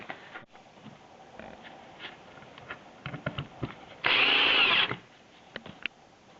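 A power drill drives screws into the corners of wooden stretcher bars for a canvas stretch, one steady whirring burst of about a second standing out over a quiet room with faint handling clatter.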